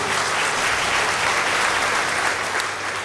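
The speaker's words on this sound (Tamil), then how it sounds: "ஒரு கைத்தட்டல் அவங்களுக்கு கொடுங்க" Steady applause from a large audience at a Women's Day debate event in Dharapuram, clapping evenly throughout without a break.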